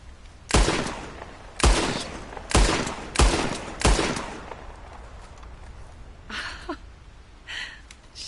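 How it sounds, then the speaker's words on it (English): Five loud gunshots ring out one after another in a Red Dead Redemption 2 shooting session, spaced about a second apart with echoing tails, followed by a few fainter shots near the end. "I'll shoot a few more this time."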